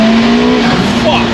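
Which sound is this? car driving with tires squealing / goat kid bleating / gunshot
car driving with tires squealing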